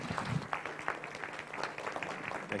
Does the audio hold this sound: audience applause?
yes